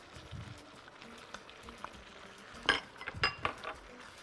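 Diced zucchini, onion cubes and minced garlic stirred with a spoon in a cooking pan: a few close metallic clinks and scrapes cluster near the end over a quiet kitchen background, with no talking.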